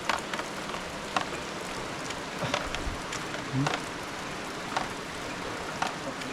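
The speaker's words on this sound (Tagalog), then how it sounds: "Kasi nga po maulan dito talaga dito." Steady rainfall pattering on surfaces during a rainy spell with flooding, a continuous hiss broken by occasional louder drips and taps, no talking.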